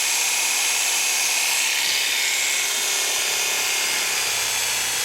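An electric hair clipper runs after its blades have been sharpened, a loud, steady high-pitched buzz held close with a slight rattle from a worn blade drive.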